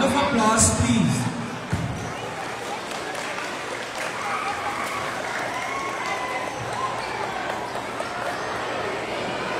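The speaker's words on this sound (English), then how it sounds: "A warm round of applause, please." An audience applauds at a school birthday celebration in honor of a teacher, a steady wash of clapping from a crowd that runs the full length after a brief louder burst at the start.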